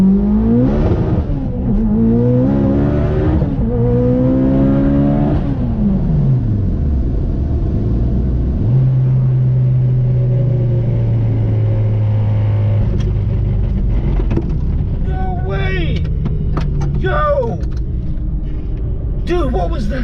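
A car engine revs hard through several rising pitches, then a sudden drop and a mechanical clunk as something breaks, followed by rough running and people talking in a garage.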